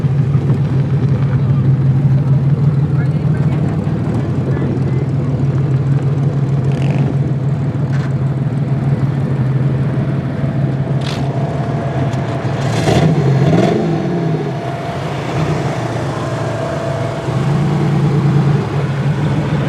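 Demolition derby cars idling and creeping through an inspection line at a county fair track, a steady close engine rumble with occasional revs, while people talk nearby.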